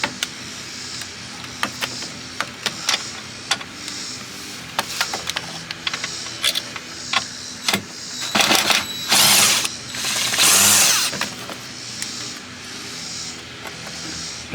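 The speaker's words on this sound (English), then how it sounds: "you want to undo the clamp down here" Clamp on a turbo hose of an Audi A4 being loosened, giving a run of quick ratchet clicks and short mechanical ticks at close range, with a few louder bursts of scraping and rattling partway through, with no voices.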